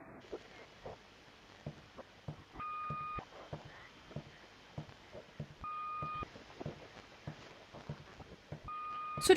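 Short electronic phone tones beep three times in pairs, steady and clear over a backdrop of clicks, taps and faint murmuring voices.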